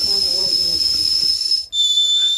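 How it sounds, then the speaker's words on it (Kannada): A pressure cooker of sambar whistles loudly and continuously, a shrill steady hiss that breaks off briefly and then resumes at a slightly lower pitch. "ನಾನು ಕುಕ್ಕರ್ ಮುಚ್ಚಳನ ಕ್ಲೋಸ್ ಮಾಡಿ ಮೂರು ವಿಷಲ್ ಬದ್ಕೊತಾ ಇದ್ದೀನಿ"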